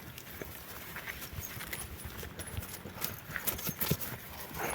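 Stallion hooves clop irregularly at a moderate distance, faint against quiet background noise, with scattered hoof strikes growing a little louder toward the end.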